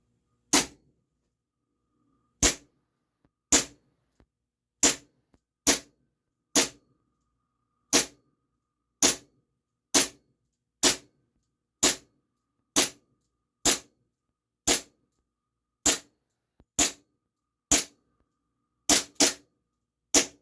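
An ASG Steyr L9-A2 CO2 blowback airsoft pistol fires .30 gram BBs in about twenty sharp, clean cracks, spaced roughly one per second, with a quick double near the end, each shot loud and close against otherwise silent surroundings.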